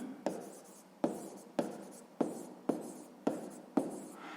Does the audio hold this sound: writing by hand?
yes